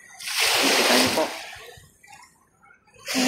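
Waves wash in on Manila Bay's Dolomite Beach with a loud splashing rush, fade into trickling water, then surge again at the end, close by.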